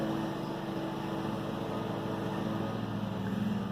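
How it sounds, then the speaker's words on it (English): A continuous droning engine hum like a lawn mower running outside, steady and moderately loud throughout with no talking. "Pardon the noise, they're cutting grass outside."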